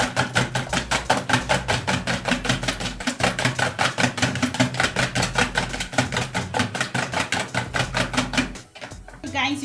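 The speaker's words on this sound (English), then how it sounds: "So we're going to whisk the egg now." Eggs whisked by hand for an oatmeal banana cake, with rapid, regular clinking beats against the bowl, loud and close, continuing steadily for several seconds before a brief break near the end.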